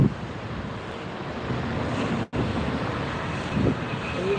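An American airliner touches down at LAX, heard as a steady, broadband roar with wind-like rushing that holds throughout, broken by one brief dropout midway.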